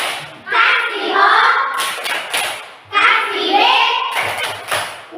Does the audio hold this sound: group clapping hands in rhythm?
yes